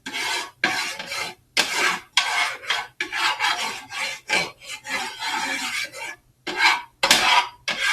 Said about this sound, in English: we're going to take our spatula and just move that oil around